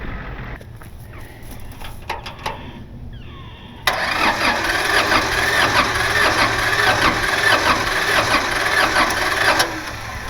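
An old tractor with no battery, started on jumper cables: after a few clicks and clanks, the engine catches and runs loud and steady, then briefly changes pitch near the end.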